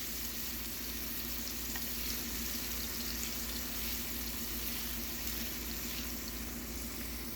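Garlic sautés in oil in a pan with a faint, even hiss and light crackle that holds steady throughout, over a low background hum and no talking.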